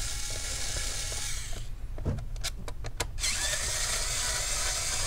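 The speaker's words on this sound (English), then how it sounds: "let's go ahead and remove all the screws" Screws being removed from an Asus GL731G laptop, a cluster of short clicks and ratcheting taps in the middle over a constant loud fan-like hiss that drops briefly, then returns.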